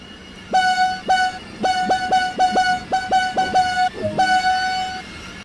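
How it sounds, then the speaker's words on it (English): A train horn in Train Sim World 2 sounds a rapid series of short, loud, tuned blasts, a rhythmic burst of several toots followed by a final longer pair. "our traditional horn bipping at the end"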